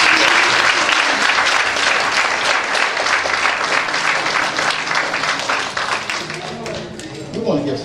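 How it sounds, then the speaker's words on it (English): A church congregation at a Baptist service applauds loudly and steadily, dense clapping filling the room for several seconds before easing slightly, with voices mixed in. "Why don't you give God a hand clap?"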